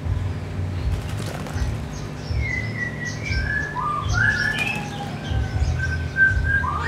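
A white-rumped shama (murai batu) sings a string of clear, bright whistled phrases and chirps over a low background hum, the notes growing busier toward the end.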